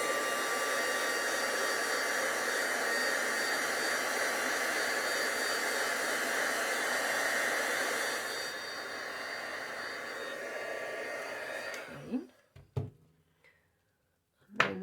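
Heat tool or hair dryer drying glue on a napkin card: a steady loud whooshing blower hum running about twelve seconds, dropping slightly partway, then switching off into quiet handling clicks.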